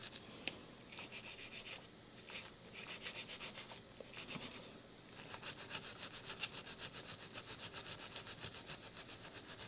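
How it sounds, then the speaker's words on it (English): A wire brush scrubs black gunk off the humbucker pickup cover of a 2019 Gibson Les Paul Classic Goldtop, making steady, rapid back-and-forth scratchy strokes close up, with no talking. "take this wire brush and try to get that gunk out that I scraped in there"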